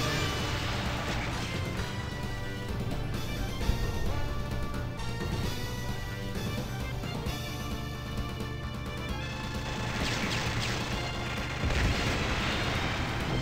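Dense, continuous gunfire and booming explosions from the classic Neo Geo Metal Slug game fill the whole stretch, loud and busy with no pauses.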